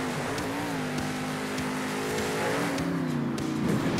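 A monster truck drifts around a corner in Monster Jam Steel Titans, its engine droning steadily and rising in pitch, with tire noise building underneath and no voices.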